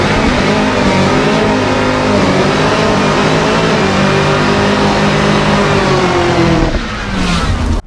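A 2017 Chevrolet Camaro ZL1 revs hard on line lock, its engine roaring loud and steady with harmonic growl, dipping briefly near the end before surging again.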